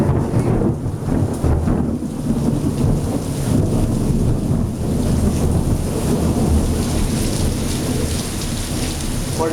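Thunder from a lightning strike during a mountain storm, a loud sustained rumble rolling over steady heavy rain drumming on a surface, filling the whole stretch with no speech.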